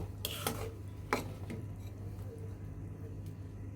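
A spoon clinks and scrapes in a pan while mustard okra curry simmers near its boil, with a few sharp clatters early on and a low, steady hum underneath.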